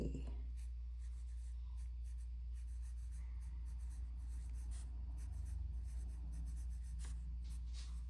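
A fountain pen nib scratches across paper in soft, close strokes over a steady low hum, with short pauses between strokes.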